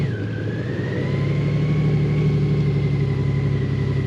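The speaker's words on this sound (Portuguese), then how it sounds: "Vamos então dar aqui uma voltinha na moto." A Honda Goldwing Tour DCT motorcycle engine runs steadily up close, its tone rising slightly as it pulls away, with a constant rumbling drone.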